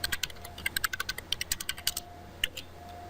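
Rapid keystrokes on a computer keyboard entering an IP address during a Cisco ASA 5510 firewall setup, a quick, uneven run of close, crisp clicks with no talking.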